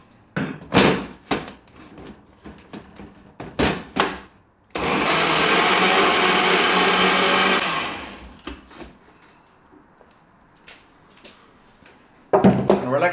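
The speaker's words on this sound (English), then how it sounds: "And then I mix that in this awesome mixer" A stand mixer whirs steadily for about three seconds while mixing peanut butter, then winds down, with scattered kitchen clatter before and after.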